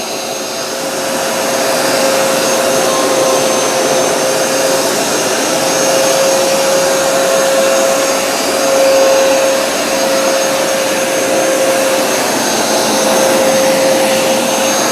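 A Bissell Crosswave or Hoover Smartwash floor cleaner running in dry-only mode, a loud, steady motor roar with a constant high whine holding for the whole stretch, close and uninterrupted.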